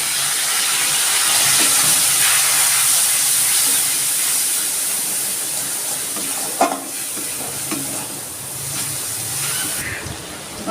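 Spice masala of cumin, coriander and turmeric powders with a splash of water sizzling loudly in a pan while being sautéed, a continuous hissing fry with a few scraping stirs.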